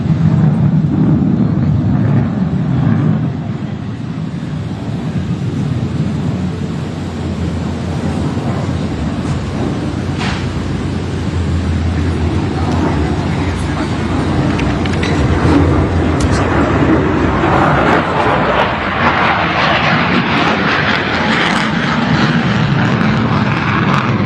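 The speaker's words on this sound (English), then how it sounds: "This demonstrates the maneuvering capabilities of the F-35C at low speeds and high angles of attack." An F-35C fighter jet flying a low-speed, high angle-of-attack pedal turn at a US 250th anniversary military flyover gives a loud, sustained engine roar that swells and fades, with no talk over it.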